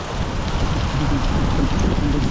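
Strong wind blows outdoors at a fishing spot, a loud, steady rushing roar that buffets the microphone for the whole short stretch, with no talk over it.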